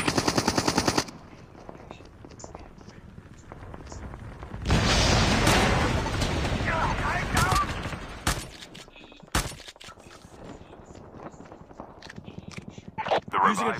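Rapid automatic gunfire bursts from a Call of Duty Mobile battle royale match, in a loud stuttering opening burst and then a long dense volley, with scattered single shots and in-game voices calling out.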